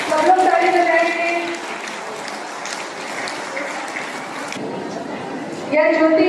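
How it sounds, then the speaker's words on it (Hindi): Crowd applause at a parish day celebration with cultural programs, a dense, even patter of clapping from a gathered audience lasting several seconds, bracketed by voices and music at the start and end. "सब लोग ताली बजाएंगे।"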